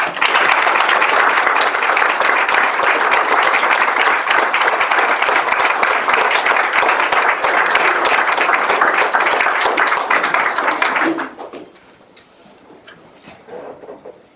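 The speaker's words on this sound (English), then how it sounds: "Can we give them a round of applause?" A large room at a community association board meeting breaks into sustained, dense applause for those who serve and protect, loud and even for about eleven seconds before cutting off to quiet room noise.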